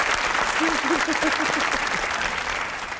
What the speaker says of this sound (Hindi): ताली होनी चाहिए नमल के लिए